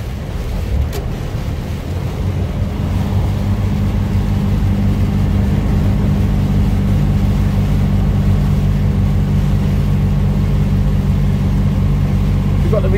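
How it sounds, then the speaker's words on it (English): A Mercedes Actros truck runs with its retarder engaged on a wet road in rain, heard from inside the cab as a loud steady low drone with road and wind noise, unbroken throughout. "We've got the reverse thrusters on."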